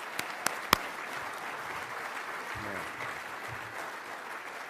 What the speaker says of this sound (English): I'd just like to have another round of applause for the 203rd and the 2nd of the 107th